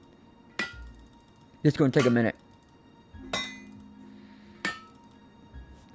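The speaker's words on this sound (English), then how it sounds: "We gotta hammer all these things in though." Hammering parts together in the Medieval Machines Builder video game: a few separate sharp metallic knocks with clinking, spread out among short bursts of speech.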